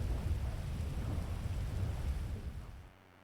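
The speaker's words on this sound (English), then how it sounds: "Is it that rain you're hearing?" Steady rain hisses heavily and evenly, then fades away in the last moments.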